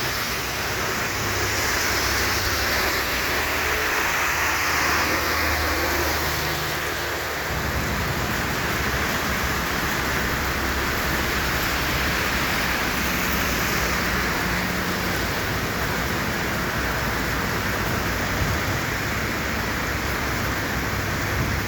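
Torrential rain pouring down during a stop on a motorbike trip, a dense, loud and unbroken roar of downpour that fills the whole scene without a break.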